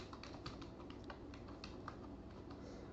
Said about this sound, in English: I'm going to type connections